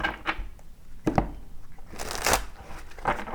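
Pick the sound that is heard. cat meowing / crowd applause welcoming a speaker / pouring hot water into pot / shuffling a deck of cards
shuffling a deck of cards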